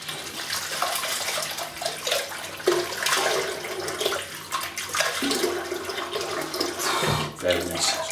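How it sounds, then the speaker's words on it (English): Running water steadily rinses out a shaving soap tub, a continuous splashing hiss that shifts as the tub is moved under the stream. "let me just clean out that tub with the water."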